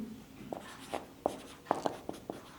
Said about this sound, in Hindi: तो आइए इसमें लिखते हैं